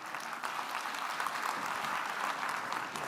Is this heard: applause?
yes